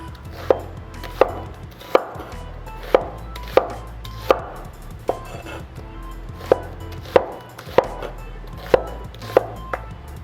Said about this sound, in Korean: 그 다음에는 양파는 반으로 잘라주시고